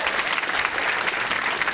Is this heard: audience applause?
yes